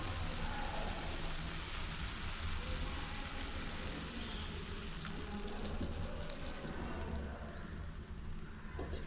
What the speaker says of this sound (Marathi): आता आपल्याला मेथी शिजवून घ्यायचे त्यामध्ये थोडंसं पाणी ॲड करायचं